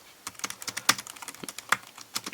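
Quick, uneven keystrokes on a Logitech K380 Bluetooth keyboard, close and fairly quiet, a short burst of clicky taps with a couple of sharper key strikes and no talk.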